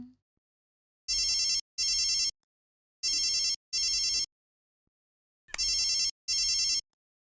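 A phone rings for an incoming call in three pairs of loud electronic bursts separated by short pauses, with no one speaking.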